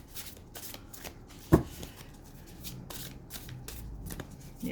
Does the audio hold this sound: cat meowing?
no